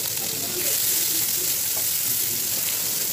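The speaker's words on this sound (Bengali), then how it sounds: "এবার আমি পেঁয়াজটাকে সামান্য ভেজে নিব" Chopped onions and cumin frying in hot oil make a steady, even sizzle with a soft crackle throughout.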